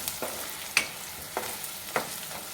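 Onions and turmeric are stirred in a frying pan, four spaced scrapes of the utensil over a soft, steady sizzle.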